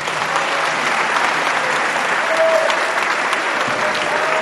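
An audience claps loudly and steadily after a speech by Bolivian vice president Álvaro García Linera at a forum, with dense continuous applause throughout.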